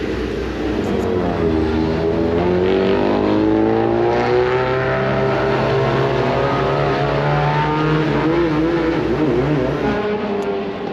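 Nitrocross lights-class race cars with internal combustion engines race past close by, their loud engines revving and shifting pitch in overlapping layers as several cars accelerate, holding a continuous roar throughout.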